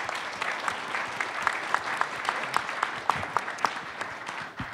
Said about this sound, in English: So let's give her a warm,